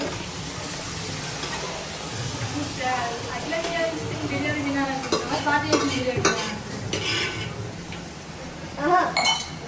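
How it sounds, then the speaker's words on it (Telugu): Marinated chicken fries in a pan with a steady sizzle, while a utensil stirs, scrapes and clinks against the metal, growing busier toward the end, with faint voices in the background. "మ్యారినేట్ చేసుకున్న చికెన్ని ఇప్పుడు యాడ్ చేసేసుకోవడమే ఓకే"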